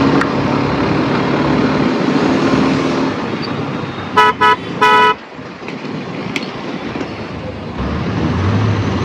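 Heavy road traffic in Pune rumbles close by, with a short cluster of three loud car horn honks in the middle over the continuous engine noise.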